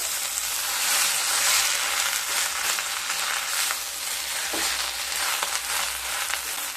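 Moringa leaves being mixed in a pan with salt and turmeric, a steady frying sizzle with soft stirring scrapes running throughout, close and fairly loud, no voices.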